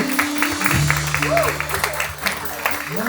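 Congregation clapping during a church celebration service, moderate applause mixed with talking voices and sustained tones, likely from instruments or a microphone, running under it.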